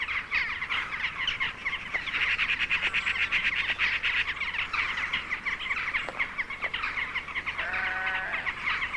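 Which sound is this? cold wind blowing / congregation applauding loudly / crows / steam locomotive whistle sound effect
crows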